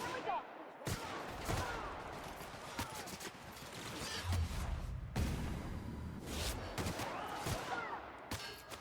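Rapid bursts of gunfire in The Outer Worlds, dense volleys and sharp shots firing almost nonstop and loud throughout.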